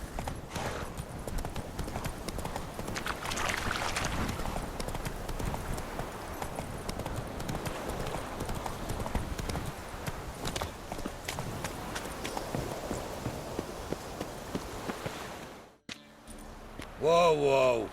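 Roach, the horse in The Witcher 3, gallops in a fast, continuous clip-clop of hooves that stays close and loud, then ends in a brief pause and a short voiced sound.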